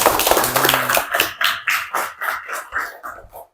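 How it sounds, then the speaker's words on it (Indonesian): A class of seventh-grade pupils claps in a school classroom, starting as a scattered burst and settling into rhythmic unison claps that slow and fade. "tepuk tangan untuk Nanda."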